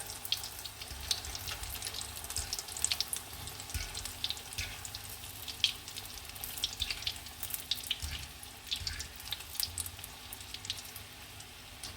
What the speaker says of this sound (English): Into your hot oil, and the oil should be on medium high.